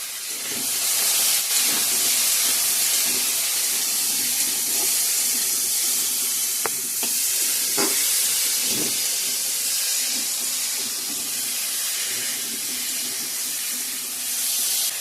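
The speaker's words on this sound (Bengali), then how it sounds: "ভালো করে ভাজা ভাজা করে নিয়ে" Spices fry in a pan with salt and turmeric, giving a steady, close sizzling hiss that runs unbroken throughout, with a few faint clicks mixed in.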